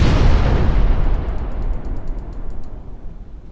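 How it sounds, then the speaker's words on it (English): Loud torpedo explosions hit a ship in a naval warfare video game, with a heavy booming blast at the start and a long rumbling decay marked by a few faint crackling pops. "That's 3 torpedo hits on Zara."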